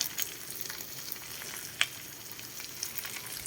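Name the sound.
stirring anchovies (dilis) frying in a pan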